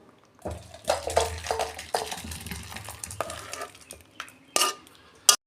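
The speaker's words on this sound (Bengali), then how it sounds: "আমার ডাল হয়ে গেছে, আমি ঢেলে ফেলছি" Cooked lentil dal with papaya poured from a pot, a run of wet sloshing and clinking pot-and-spoon knocks, with a few sharp metallic taps near the end.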